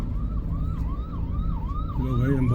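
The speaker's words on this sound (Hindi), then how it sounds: "चलो भाई एम्बुलेंस, चलो रास्ता दो भाई, एम्बुलेंस को रास्ता दो।" A wailing ambulance siren rises and falls repeatedly over a low rumble of road traffic engines in India, with a second, deeper tone joining toward the end.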